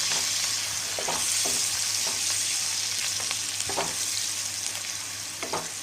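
Home-roasted masala and chopped green chillies fry in a pan, making a steady sizzle broken by intermittent spatula scrapes while being stirred, heard close up with no voices.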